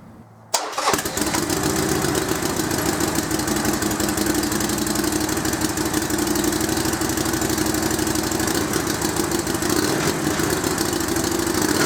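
A Harley-Davidson motorcycle engine with exhaust baffles fitted starts with a sharp catch after a brief quiet, then settles into a loud, steady, throbbing idle close by for the rest of the clip.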